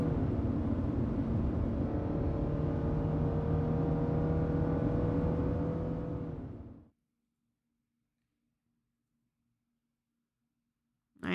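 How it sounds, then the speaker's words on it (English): A car from the Cafe Enchante video game drives along in a steady, loud whirring rumble for about seven seconds, then cuts off abruptly into silence, with a faint low hum lingering afterward. "Misyr rides in the car and heads to the GPM headquarters"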